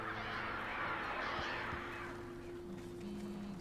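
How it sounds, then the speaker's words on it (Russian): Crows cawing in the video game Alan Wake, a harsh, rustling burst of calls over a steady low in-game hum that fades after about two seconds. "Вороны!"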